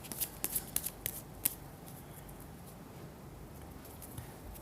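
Tarot cards are shuffled in a quick run of crisp riffling snaps early on, then soft faint card handling continues under a quiet room hush.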